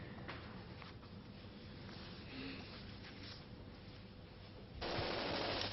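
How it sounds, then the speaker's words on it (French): Bursts of automatic gunfire fired into the air during an Israeli military operation in Lebanon crackle at a distance through a continuous rough background, swelling louder near the end. "Rafale tirées en l'air"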